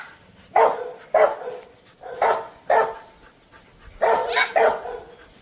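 Several dogs at a house with puppies bark in short, loud bursts, six or so sharp barks spaced irregularly with a quick double bark near the end, fairly close with no talking.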